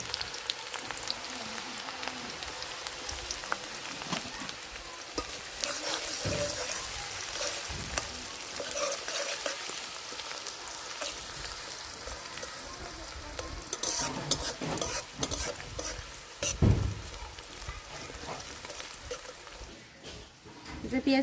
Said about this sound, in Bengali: তেল গরম হয়ে গেছে, এখন পেঁয়াজ কুচি ভাজা নেব।